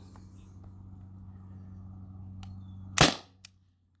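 A single sharp shot from a T4E TR50 or Beeman BP50 air pistol, a short loud crack near the end after a few seconds of low, steady background hum, followed by a faint click.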